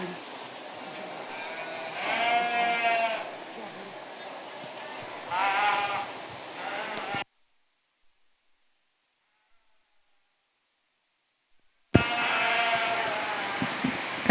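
Sheep bleating in a show ring at a state fair wether dam show, two loud, wavering bleats close by with a third starting near the end, over a steady hall murmur and broken by a stretch of silence.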